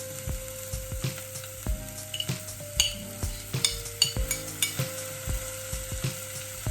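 Chilies frying in a pan, a soft steady sizzle broken by stirring scrapes and light utensil clinks, with a low electrical hum underneath.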